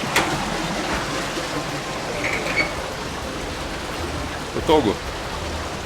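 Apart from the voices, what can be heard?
water running down from the mountains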